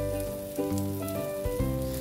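A quesadilla fries in a pan, its steady sizzle running throughout with a few brief clinks, as if a spatula touches the pan, and music playing underneath.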